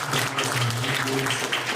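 A crowd claps and cheers at a political gathering, a brief, moderately distant burst of applause mixed with murmuring voices.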